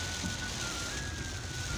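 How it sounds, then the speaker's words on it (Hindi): Steady rain falls on a village in Punjab, Pakistan, a dense, continuous hiss of drops on surfaces with a low rumbling undertone, even and unbroken throughout. "बारिश फिर दोबारा आ गई"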